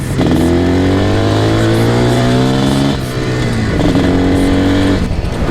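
IZh Jupiter 400cc twin-carburetor motorcycle being ridden, its engine droning loud and close with a steady pitch that dips briefly around the middle and then climbs again, no talking over it.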